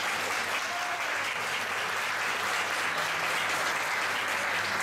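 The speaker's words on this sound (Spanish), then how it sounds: "un aplauso al Rey de Reyes" A church congregation claps during a sermon, praising the King of Kings with sustained, even applause that fills the room at moderate loudness from start to finish, with no voices standing out.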